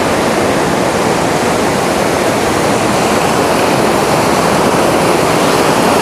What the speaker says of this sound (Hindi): यहाँ से नाले का पानी देखें कितना साफ़ और शफाफ है, और ऊपर कहीं पहाड़ों की चोटियों से आ रहा है।